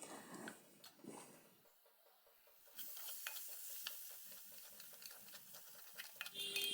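Onions with ginger garlic paste sauté in a pan for mutton boti gravy, a quiet sizzle broken by a run of light, regular clicking stirs, close and fairly faint, without talk.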